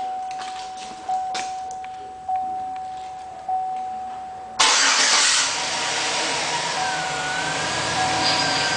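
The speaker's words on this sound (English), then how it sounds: "To start the vehicle, you press the button with the key for 3 seconds." A 2007-or-later full-size Chevrolet Silverado is started with a Crimestopper PS04 remote starter: three short chirps sound close by, then the engine cranks and catches with a sudden roar and settles into a steady idle.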